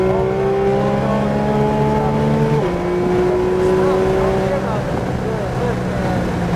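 A Porsche GT3 at full throttle on a race track: the engine note climbs hard, dips at an upshift, then climbs again, loud and close, while a voice speaks over it.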